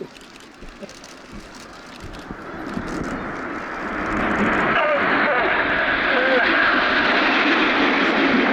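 RAF Red Arrows jets sweep in from the left in a flying display at Duxford, a broad roar swelling and staying loud overhead, with a commentator speaking over the early part.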